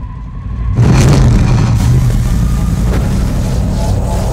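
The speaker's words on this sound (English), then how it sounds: "Mercedes AMG GT3. Handcrafted by racers." Mercedes-AMG GT3 race car: a loud engine surges in abruptly and holds a deep, rough, sustained roar near the listener, with no talking.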